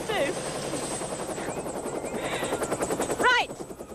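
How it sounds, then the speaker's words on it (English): A helicopter coming in to land gives a loud, steady rotor thump throughout, near and continuous, with faint voices and a brief squeal underneath in West Yorkshire. "Must have heard the helicopter coming."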